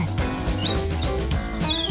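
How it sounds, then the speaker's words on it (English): A cartoon bird chirps in a Tom and Jerry zoo chase scene: a few short, high whistling tweets over busy orchestral cartoon music. "Chirp, chirp!"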